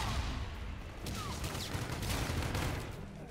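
Rapid gunfire from a shooter video game, crackling in dense bursts over a rumbling game soundscape at moderate loudness, with no voices.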